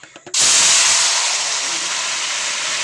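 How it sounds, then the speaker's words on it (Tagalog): Latik, toasted coconut curd, hits a hot large wok and sets off a loud, sudden, sustained sizzle that stays steady and close, with faint voices just before it starts. "Tumunog siya kasi mainit yung kawali."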